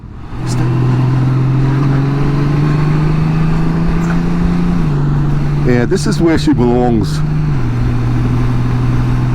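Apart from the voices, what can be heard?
motorcycle engine revving at speed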